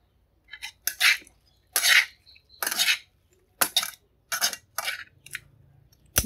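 Sour cabbage salad tossed in a bowl, a series of loud, close, separate bursts of wet clattering and scraping as the vegetables and utensils knock against the bowl, with short silences between.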